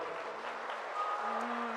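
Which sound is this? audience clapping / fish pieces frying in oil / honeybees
audience clapping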